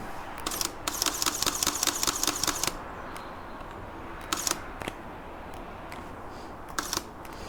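A camera shutter fires repeatedly while photographing the Moon by day using a cable release, with a quick burst of about a dozen crisp clicks followed by a few scattered single shots outdoors.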